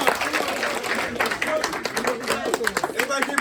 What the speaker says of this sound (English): Right, so clap up.